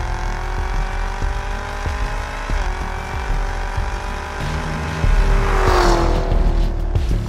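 A 2017 Chevrolet Camaro ZL1 with a 10-speed automatic transmission is driven hard, its engine roaring loud and close, pitch rising through quick upshifts, then surging harder as the revs climb again.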